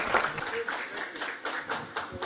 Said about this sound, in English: And give him a big applaud.